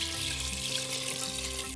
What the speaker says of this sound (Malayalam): കടലയ്ക്ക് നികക്ക് വെള്ളം ഒഴിക്കണം.